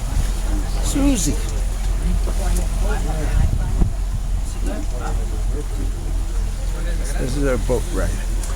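Boat ride on muddy water along the Panama Canal, with a constant engine and wind rumble running underneath people talking nearby.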